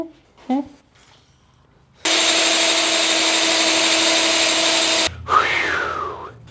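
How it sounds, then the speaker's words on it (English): A power drill-bit sharpener grinds steadily for about three seconds in a garage during a big-block Ford 460 engine build. It is loud, even and continuous, with a short scraping sound after it stops and brief voices before it starts. "We run the sucker through the sharpener."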